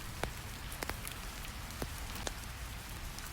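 Rain falling outside, a soft steady hiss of drops on surfaces with a few sharper isolated drips, faint and continuous with no voices.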